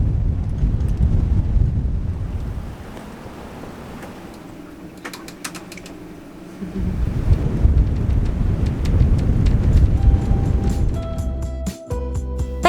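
Strong gusty wind buffeting a sailboat riding at anchor in a 57-knot storm, a continuous low roar that drops and lulls mid-way, then surges louder again with rattling and knocking from the rigging near the end.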